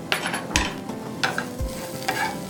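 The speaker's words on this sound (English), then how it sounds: "So just saute it for 1 minute." Grated ingredients are sautéed and stirred in a pan with masala spices, a soft sizzle under a few brisk scraping strokes of a spoon, near and steady.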